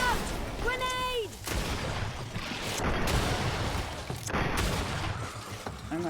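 A grenade bursts during a Greedfall battle amid a run of sharp, booming blasts and scattered gunfire-like cracks, with a shout just before the explosions.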